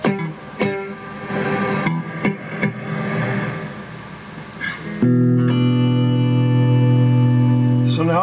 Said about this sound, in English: Here comes the reverb.